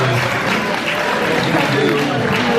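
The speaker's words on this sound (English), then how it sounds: "Let's give Liz a big round of applause for showing up here today" An audience at a parade of tables event applauds, a dense steady patter of clapping close by with crowd murmur mixed in.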